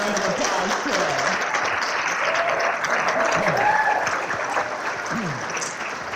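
Audience applause at a wildfire summit in Hawaii, a steady wash of clapping from a seated crowd lasting several seconds, with voices talking and calling out over it.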